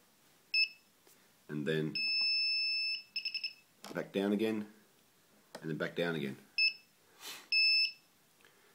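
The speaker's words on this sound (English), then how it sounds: "after you hear the first beep" Several high electronic beeps from a Lotusrc T380 drone's flight controller during calibration, some short and some held as long steady tones, alternate with someone speaking nearby.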